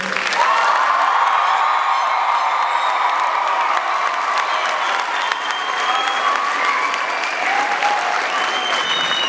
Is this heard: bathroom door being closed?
no